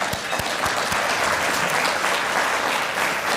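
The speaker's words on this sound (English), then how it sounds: "you deserve a round of applause" Dense, sustained audience applause at an annual meeting, loud and even throughout with a few sharper claps standing out near the start.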